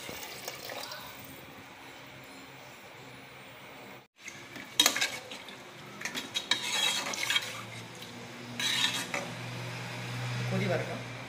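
Rice goes into boiling water in a pot for chicken biryani and is stirred, making scraping, clinking and splashing sounds over a steady bubbling hiss, close and moderately quiet.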